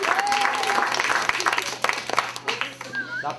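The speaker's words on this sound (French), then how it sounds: "D'abord on l'applaudit." A crowd at a fair event applauds with dense, patchy clapping while people talk and call out over it nearby.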